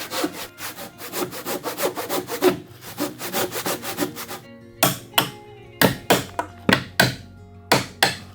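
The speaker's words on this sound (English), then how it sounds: "lay the saw on it to cut at the exact height of the floorboard" A hand saw rests flat on a spacer on the subfloor and undercuts a door casing at floorboard height, close up and steady. A run of quick rasping strokes gives way to slower, separate pushes, with no voices.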